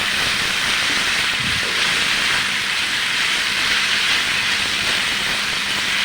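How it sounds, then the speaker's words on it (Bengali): Bitter gourd and potato fry being stirred in a pan, a loud, steady hiss of frying that runs throughout, with faint low knocks of stirring underneath. "আবারও ভাজিটাকে আমি উল্টিয়ে পাল্টিয়ে নাড়াচাড়া করে দিচ্ছি।"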